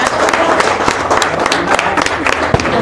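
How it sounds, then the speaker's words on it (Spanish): An audience at a conference event applauds a prize winner with loud, dense clapping that holds steady throughout. "un fuerte aplauso para ella"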